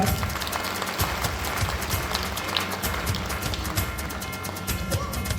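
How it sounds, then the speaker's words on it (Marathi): Steady, loud applause from an audience at an award ceremony honouring social workers, a dense crackle of many clapping hands that holds for several seconds without a break. "एकदा जोरदार टाळ्या."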